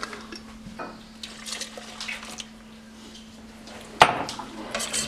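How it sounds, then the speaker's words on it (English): Gelatin and juice being stirred in a pot in a home kitchen: soft scraping and light metallic clinks of a utensil against the pot, with one sharp louder clank near the end and a faint steady hum underneath. "Just go ahead and give that a good stir"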